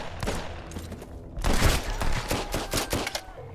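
A shotgun fires in the survival game Sunkenland: a quick run of loud, close blasts, with a short pause after the first few and a denser volley after that.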